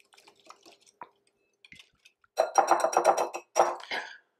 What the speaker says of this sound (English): we're gonna go ahead and whisk this together.